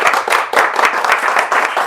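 Applause from an audience at an evening event for a trail-running club from La Réunion, a short burst of dense, close clapping, fairly loud, with no speech over it.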